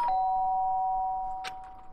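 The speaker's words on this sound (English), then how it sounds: "The sharp sound of the doorbell pierced my sleepy haze and pulled me back into the real world" Doorbell chime in the video game DanganRonpa: Trigger Happy Havoc, a single sustained electronic ding ringing clearly on its own for nearly two seconds, with a brief click near the end.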